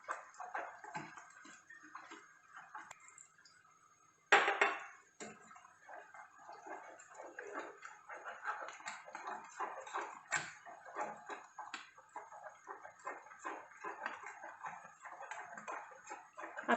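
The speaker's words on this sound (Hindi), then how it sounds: "आप इसको अच्छे से फेंट लीजिए" Pakora batter for kadhi pakoda being whisked in a bowl, quiet rapid rhythmic tapping and sloshing that repeats continuously, with one sharper clatter early on.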